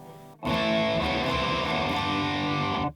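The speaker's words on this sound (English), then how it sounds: "I've put it on the distortion just so you can hear it." Electric guitar played through a G3 Atom distortion pedal on its high-gain setting, a dense, harsh, sustained distorted chord ringing loud and alone for over two seconds after a brief quieter lead-in, then cutting off.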